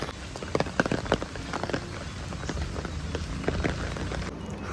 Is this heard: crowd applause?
no